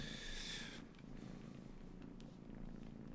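A pet cat purring close up, a steady soft rumbling purr that continues throughout with no talk.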